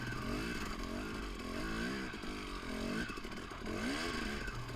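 A 2018 Husqvarna TX 300 two-stroke dirt bike engine revs and lugs in rising and falling surges, loud and close, with a continuous rattly buzz.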